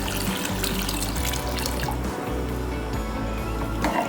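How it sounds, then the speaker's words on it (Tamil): Water pours steadily into a pressure cooker holding tomato soup ingredients, a continuous gurgling splash close by with no talking. "இப்போ 1 லிட்டர் அளவு தண்ணி ஊற்றிடலாம்"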